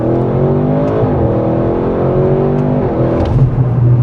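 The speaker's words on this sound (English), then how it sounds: "this twin turbo V8" An Audi RS6 GT's twin-turbo V8 pulls hard from inside the cabin with a deep, rising engine roar that drops briefly on a shift and then climbs again, loud and continuous.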